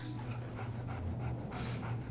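A dog pants in quick, soft, rhythmic breaths over a steady low hum of background noise, quiet and close, with a brief hiss near the end.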